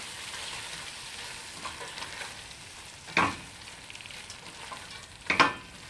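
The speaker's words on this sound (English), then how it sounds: "So grated carrot and blitzed mushrooms straight in there. Bit of good stir." Grated carrot and blitzed mushrooms stirred in a hot pan for a vegan nut roast, giving a steady close sizzle and fry with two brief louder scraping stirs, no voices.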